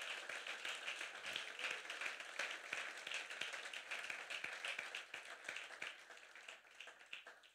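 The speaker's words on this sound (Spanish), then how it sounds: "Dele ese fuerte aplauso al Señor." A church congregation claps for the Lord during a service, producing steady, moderately distant crowd applause with scattered sharper hand claps that carry on throughout before tapering slightly at the end.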